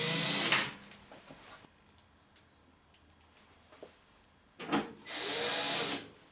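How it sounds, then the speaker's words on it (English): Power driver sinking self-tapping screws into the back panel of a tumble drier, with two loud whirring bursts at the start and end separated by a stretch of faint handling clicks. "Then we can just put the three self-tapping screws in the back."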